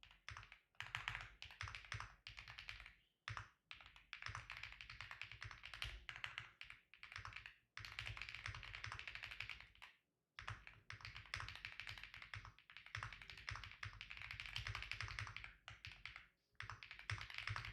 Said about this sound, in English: Right now, I'm typing up an alert.